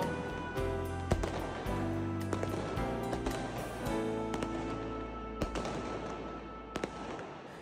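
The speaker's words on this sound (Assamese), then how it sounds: "নিজৰ ফ্লেটৰ পৰাই ফটকা আতচবাজি ফুটাই দিল্লীবাসীয়ে উপভোগ কৰিলে দীপাৱলীৰ আনন্দ" Diwali firecrackers and fireworks burst from apartment flats in Delhi, with sharp cracks and pops at irregular intervals over a dense, continuous background of crackling, booming and distant explosions.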